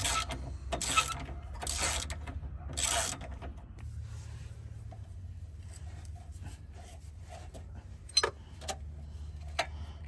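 Tools tighten intercooler fittings on a Pajero, giving bursts of ratchet clicking at the start, then quiet metallic ticks and a few sharp clanks, close and fairly faint.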